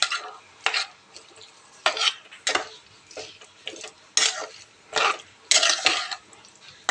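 Dates soaked in vinegar and lemon pickle mixture stirred by hand in a bowl, giving repeated scraping, clacking strokes in uneven bursts, close and fairly loud, with no talking.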